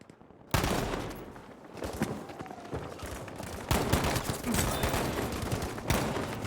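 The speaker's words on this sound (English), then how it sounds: "set up with an LMG on the staircase" Light machine gun fire from a 20v20 Breakthrough match in a video game. Rapid overlapping bursts of shots start abruptly and repeat in dense volleys at moderate loudness.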